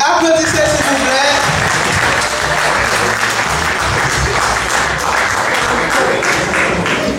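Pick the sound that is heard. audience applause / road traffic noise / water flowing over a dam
audience applause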